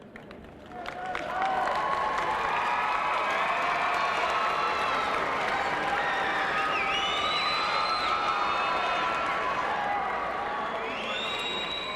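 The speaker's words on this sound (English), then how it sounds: "give them a round of applause" A stadium crowd at a 1995 Utica High School graduation ceremony applauds and cheers, with sustained clapping and scattered whistles and shouts swelling up and holding steady for several seconds.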